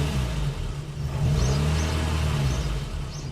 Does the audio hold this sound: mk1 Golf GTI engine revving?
yes